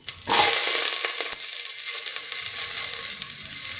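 Red capsicum pieces drop into a hot pan and set off a loud, steady sizzle that runs the whole time, with a few faint stirring scrapes and no voices.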